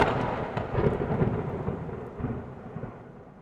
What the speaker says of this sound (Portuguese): Trovões fizeram o chão estremecer.